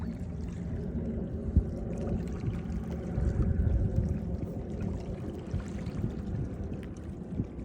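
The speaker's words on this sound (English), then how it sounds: "Let's go wash it off." Water poured over a freshly dug-up quarter to wash off the dirt, a steady close splashing and trickling with low rumbling, continuous and moderately loud.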